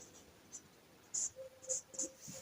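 Pen or marker writing a word during a handwritten maths solution, faint short scratchy strokes in a quiet room, a few quick marks clustered together.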